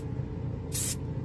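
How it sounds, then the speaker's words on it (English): A single short burst from a BEHR spray paint can, a test spray onto plastic, hissing clearly for under half a second against a quiet background. "I did a little test spray because the red seems to come out real heavy"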